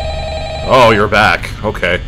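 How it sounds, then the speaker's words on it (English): A telephone rings in the Five Nights at Freddy's video game, its bursts of electronic trilling sounding close and loud while someone talks over them. "Answer the phone."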